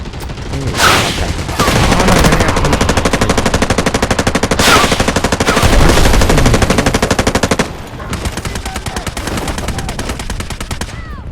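A light machine gun in the video game Delta Force fires in loud, sustained automatic bursts of rapid shots, with a short pause between long volleys.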